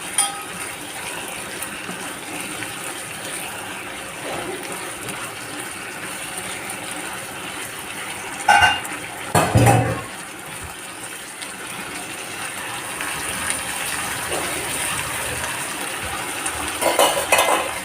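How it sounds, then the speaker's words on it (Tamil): A spoon stirs potato fry with a little added water in a pan, with scraping and clinking against the metal, a couple of louder knocks midway, and a soft sizzle underneath. "நல்லா ஒன்றா கலக்கிடுவோம்."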